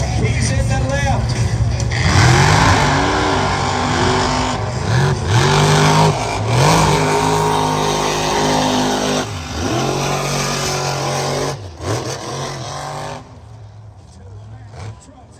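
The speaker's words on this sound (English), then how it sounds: "Trucks going head to head." Mega trucks race head to head in a mud race, their big engines roaring and revving loudly in repeated rising surges, with talk from an announcer over the din.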